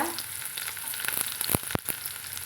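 Small shallots sputtering in hot oil with popped mustard seeds, a close, steady sizzle with a few sharper crackles and stirring scrapes, no voices.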